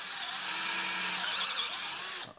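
A 12V cordless Black Tools drill with a sharp 3/8 inch bit whines steadily at high speed for about two seconds, then winds down abruptly as it stops.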